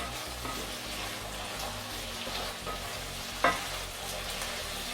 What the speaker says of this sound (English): our peppers, our onions are starting to boil nicely